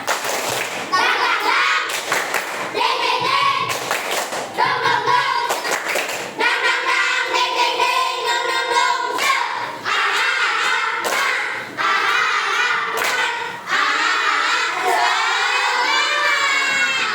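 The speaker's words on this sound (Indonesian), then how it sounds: "Kita tepuk semangat dulu sekali. Tepuk semangat." Children clap a rhythmic spirit cheer together in a classroom at the end of a lesson, loud bursts of hand claps and thumps mixed with excited young voices shouting along throughout.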